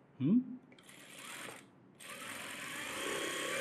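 A sewing machine runs steadily while stitching a folded hem on a net model blouse, a short louder burst at the start followed by a continuous mechanical whir of moderate loudness, briefly pausing near the middle before resuming.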